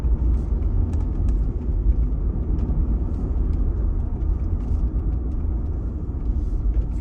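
A car driving along a coastal road near Point Reyes, heard from inside the cabin as a steady, loud low rumble of engine and tyres that holds unchanged from start to finish.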